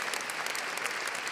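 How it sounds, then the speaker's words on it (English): An arena audience claps after a women's figure skating short program at a European championship, a dense steady wash of applause heard for just a moment. "Marius Negrea leading the applause on the other side of the boards"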